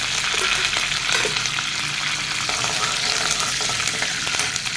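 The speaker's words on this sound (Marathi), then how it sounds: "आता त्याच्यामध्ये आपण कढीपत्ता आणि मिरच्या घालूया" Curry leaves and green chilies sizzle hard in hot oil with urad and chana dal for a tempering, a loud, steady crackle and hiss close up that carries through without pause.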